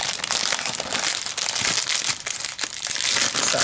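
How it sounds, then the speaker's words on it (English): Plastic packaging around a Diamond Press mermaids stamp set crinkles and crunches continuously and loudly, close up, with dense rustling bursts throughout and no talk. "I'm trying to keep it away from over here so you don't hear all that crinkling"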